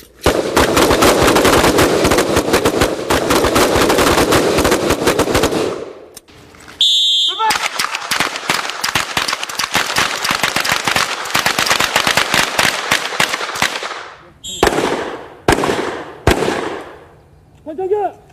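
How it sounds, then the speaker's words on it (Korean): A submachine gun fires in long, loud rapid bursts, followed by sharp, separate pistol shots with short gaps between them, during special-forces shooting drills. "기관단총을 쏘고 이어 권총 사격까지."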